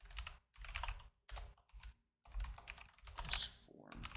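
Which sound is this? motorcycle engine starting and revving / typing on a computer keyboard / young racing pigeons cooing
typing on a computer keyboard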